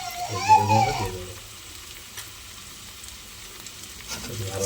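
Cumin powder and ginger paste are stirred in a pan for a paneer potato curry, making a soft, steady sizzle with brief scraping and a squeaky tone near the start.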